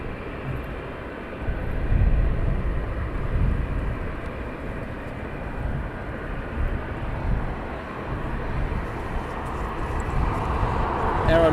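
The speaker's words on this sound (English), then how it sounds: "And RYANAIR taxiing out behind the ASL." A Ryanair airplane taxiing at night at East Midlands Airport gives a steady low jet rumble at middle distance that swells and eases slightly, with a voice talking over it.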